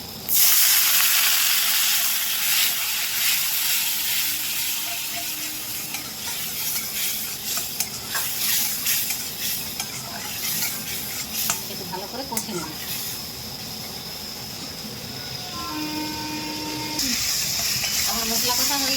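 Wild jungle mushrooms (chatu) sizzle and hiss in a pan with chilli powder and spices while a utensil stirs them, scraping sounds rising and falling over a steady frying hiss.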